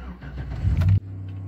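A 2010 car's engine starts right after its fault codes are cleared. A short crank builds up, the engine catches sharply, and it settles into a steady, close idle.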